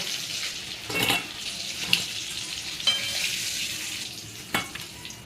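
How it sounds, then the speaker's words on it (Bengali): Bay leaf and spice paste go into hot oil left from frying potatoes, giving a steady close sizzle with a few louder bursts and light utensil knocks along the way. "এই আলু ভাজার তেলের মধ্যে দিয়ে দেবো তেজপাতা, পেস্ট করা মশলা।"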